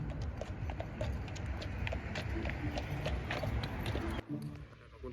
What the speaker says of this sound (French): elle est tranquille sur sa calèche avec ses 2 petits chevaux